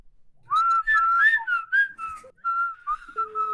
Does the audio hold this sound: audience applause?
no